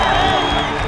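A crowd cheers and shouts at a professional esports match, a dense, steady roar of many voices that fills the whole moment.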